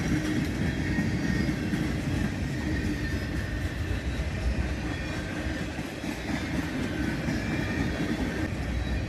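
A long CSX mixed manifest freight train rolls past in hot summer weather, a steady, loud rumble and rail roar with faint clickety-clack, holding constant throughout with no voices.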